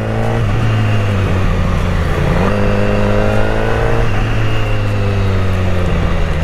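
A BMW S1000RR superbike engine revs loudly and steadily up close, its pitch rising and falling through several throttle blips without any break.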